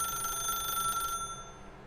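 A telephone rings in the video game The Stanley Parable, a steady electronic trill holding for about a second before cutting off and leaving a faint fading tone, clear and alone.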